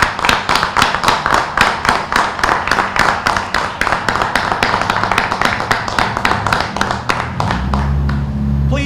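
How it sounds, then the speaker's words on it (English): Warm applause from a civic gathering in Reading after a public official is praised, a steady rhythmic patter of many hands clapping close by and loud, fading out at the end into a low hum. "please join me in another warm round of applause"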